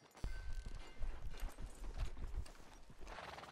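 Horse hooves clip-clop steadily at a walking pace in the Red Dead Redemption 2 video game, fairly close and continuous, with a faint whinny and no talking.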